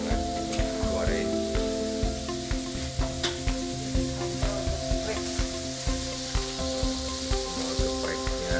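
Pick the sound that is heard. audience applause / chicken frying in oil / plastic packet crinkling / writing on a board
chicken frying in oil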